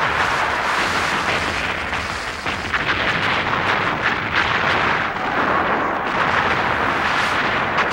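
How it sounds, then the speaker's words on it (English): British cannon fire in the 1842 war with China, heard as a dense, continuous barrage of loud booms and rumbling blasts that lasts for several seconds, with no voices. "British cannon power proved superior"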